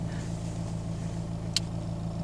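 A Volkswagen car engine idles steadily at low revs, a constant low hum with a faint regular pulse and one brief tick partway through, no talking.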